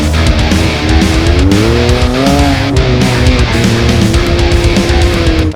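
An off-road race car at the Baja 500 drives off with a loud, sustained engine roar whose pitch climbs and shifts through gears, close and continuous for several seconds.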